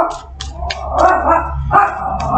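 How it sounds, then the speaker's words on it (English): A dog barks outside in short repeated yips and barks, loud and close, with a brief whimpering tone between the barks and no talking. "There's a dog outside."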